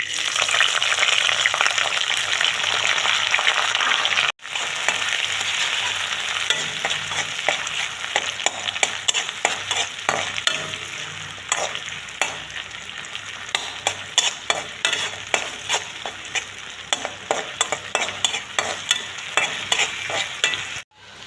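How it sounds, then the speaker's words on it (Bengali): Onion frying in a wok of mustard oil with a bay leaf, a loud close sizzle with repeated scraping stirs and clatter throughout, one brief break early on, no voices. "কড়াইতে অল্প একটু সর্ষে তেল দিলাম তেজপাতা দিলাম দেব পেঁয়াজ কুটি"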